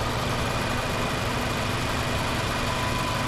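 A 2021 Mazda 3 Premium all-wheel-drive car sits idling, its engine a steady, even hum with a constant low rumble and no revving, close by and alone.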